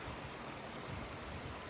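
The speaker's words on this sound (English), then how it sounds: "That's the Burbage Brook," Burbage Brook babbles through the wooded Padley Gorge, a steady, full-bodied rush of running water that fills the short stretch evenly with no voices over it.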